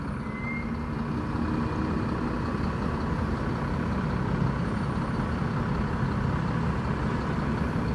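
A Sinarjaya Jetbus 5 coach with a front-mounted Mercedes engine idles while luggage is loaded, giving a steady, close, low diesel rumble that holds even throughout with no voices.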